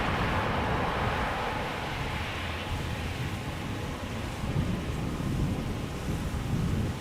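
Aircraft thrust reversers roaring on landing at Amsterdam Schiphol, a sustained low rumbling wash of engine noise, steady and heavy with slight swells, heard from a distance without voices.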